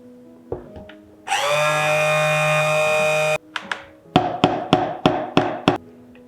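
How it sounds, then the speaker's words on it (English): A hand blender runs steadily for about two seconds in a jug of chocolate ganache, a loud high whine, followed by a series of sharp knocks and clatters. "Pour the ganache in a jug and hand blend."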